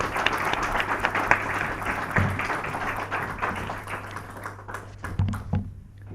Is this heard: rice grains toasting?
no